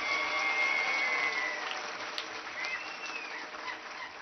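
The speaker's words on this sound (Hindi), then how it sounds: "सभा एकजुट होकर एक मुट्ठी से तालियां बजाए" Crowd applause at a political rally for a birth anniversary event in Maharashtra, a dense steady clapping that starts loud and eases slightly, with a faint whistle-like tone drifting over it.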